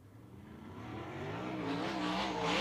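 A 410 sprint car roars around the RPM Speedway track during heat racing, engine noise swelling steadily louder as it approaches, with no talk over it.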